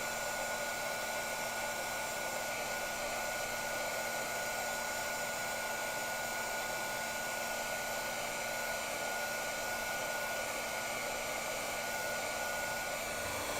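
A hair dryer blows steadily on alabaster marbling ink, a loud, continuous, even whine and rush of air held close without a break.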